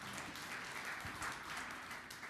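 A church congregation applauds during a sermon, a dense, even wash of clapping that continues for a couple of seconds at moderate volume.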